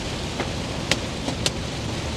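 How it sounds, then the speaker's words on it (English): Hail pours down during a severe storm as a dense, steady hiss with a few sharper cracks of stones striking, close and continuous, with no voices. "I can't hear you over the hail"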